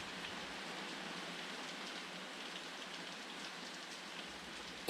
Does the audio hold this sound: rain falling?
yes